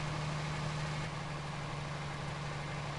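A tractor or farm vehicle engine idles steadily in Farming Simulator 2019 on a USA farm map, a continuous low hum with a constant drone, loud and close, with no voices.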